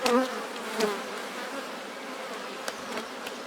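A honey bee swarm hums steadily during a shook swarm as bees are shaken from their old box into a new one, a dense close buzz with brief individual bees flaring louder at moments.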